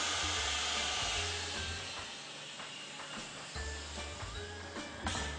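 Air hisses steadily through a pressed cheese head as it is blown out of its form after an hour of pressing, with a low machine hum underneath and faint clinks in a dairy workshop.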